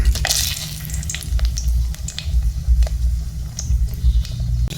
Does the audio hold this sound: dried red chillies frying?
yes